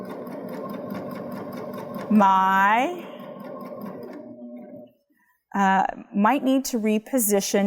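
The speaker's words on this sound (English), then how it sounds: "now I'm going to start stitching" Baby Lock Jazz II sewing machine stitching cotton with a plain hemmer foot, a close rapid mechanical whirr that pauses briefly, while someone talks over it.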